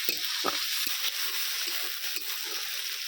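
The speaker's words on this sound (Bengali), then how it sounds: "আদা রসুন আমি একটু ভালো করে কষিয়ে নেবো যাতে না কাঁচা গন্ধ থাকে" Ginger and garlic paste is stir-fried in a pan for a chicken and potato curry, a quiet sizzle broken by several sharp scraping stirs, with no one speaking.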